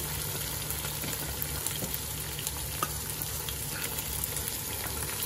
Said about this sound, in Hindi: अभी हम इसको अच्छी तरह से भून लेते हैं